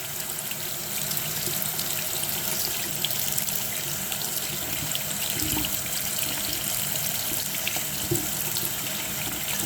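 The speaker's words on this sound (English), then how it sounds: "So I wonder if I turn the cold water on" Water gushes steadily from a bathroom tap with the cold valve open, a constant, close splashing rush that runs on alone without a break.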